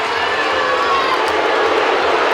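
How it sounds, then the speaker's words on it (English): The home crowd at a Sheffield Steelers ice hockey game against Glasgow Clan jeers and boos after a visitors' goal, a loud sustained roar of many voices filling the arena. "Crowd don't like it. They didn't like the Steelers being short-handed."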